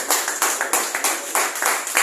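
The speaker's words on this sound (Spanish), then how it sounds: "Apláudele al Señor." A church congregation claps together in rhythmic bursts, loud and close, with the beats landing in a steady pulsing pattern and no talk over it.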